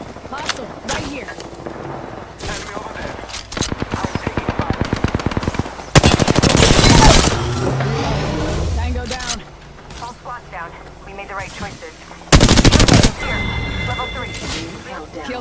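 Rapid automatic gunfire in the video game Apex Legends, long loud bursts and single cracks with reload clicks between, mixed with game effects and a spoken voice.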